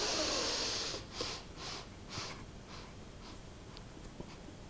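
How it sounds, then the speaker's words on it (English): Slow breathing in through the mouth or nose as if sucking through a small straw, a soft airy inhale followed by several faint, evenly spaced breaths, close and quiet with no talking. "suck up a little bit of air, either through the mouth or through the nose, as if you're sucking through a little straw"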